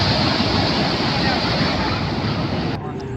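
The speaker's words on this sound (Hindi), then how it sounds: "इस साइड थोड़ा नदी आराम आराम से बह रही है।" A river flows gently in a broad, steady rush of water that stays loud and continuous throughout, mixed with some wind buffeting, with a voice speaking over it.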